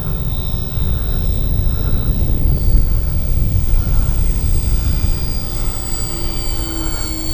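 An OV-10 Bronco radio-controlled model plane makes a low pass at three-quarter throttle, a steady droning engine with a high whining tone that swells as it nears and holds loud throughout, no talking over it.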